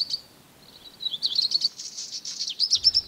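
A black redstart sings from a rooftop early in the morning, giving a thin, high scratchy warbling phrase that starts faint and grows clearer, repeated in short bursts close by with no talk.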